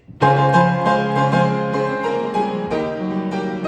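Piano playing an arrangement, notes ringing together with the sustain pedal held fully down, tones overlapping and blurring into a continuous wash with no gaps.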